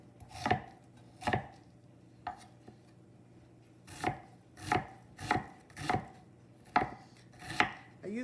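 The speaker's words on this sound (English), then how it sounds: "this says diced onion. This is not going to go in the blender, so I don't want like really big chunks of onion in my quiche, so I'm going to cut it rather finely" A knife finely chopping onion for a veggie quiche, cutting thin slices on a board: about a dozen crisp, close knife strikes land in uneven clusters, with short pauses between bursts and no talking.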